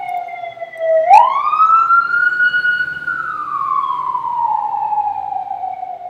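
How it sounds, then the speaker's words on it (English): An emergency vehicle siren wails in the middle of a city, a single loud tone sweeping up sharply then sliding slowly down, sounding alone without talk. "There was siren. I'm in the middle of a city."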